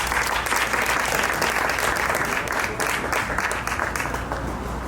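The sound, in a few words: audience applause welcoming a performer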